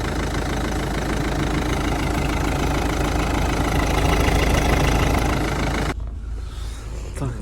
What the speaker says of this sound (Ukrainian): Ну і теж гарно працює рівненько, чистенько. Це зараз двигун вже є повністю прогритий